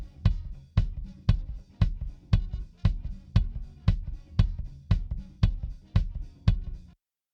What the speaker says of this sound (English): kick, what I call the kick out mic, and this is the Beta 52.